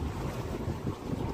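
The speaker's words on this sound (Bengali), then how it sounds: "তার মধ্যে ছপাছপ করে চলছে আমাদের স্পিড বোট" A speedboat races across the water in Alleppey, its loud engine roar mixing with slapping waves and buffeting wind on the microphone, heard up close without talk.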